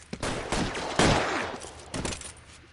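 Several loud, close gunshots crack out in quick irregular bursts in the video game L.A. Noire during a shootout at a cafe, each with a short echoing tail.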